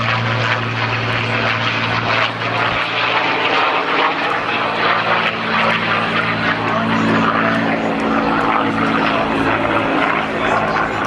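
A P-51 Mustang propeller aircraft flies at an airshow, its engine drone loud and continuous throughout with a steady low hum and broad roar, crowd and ambient noise mixed in.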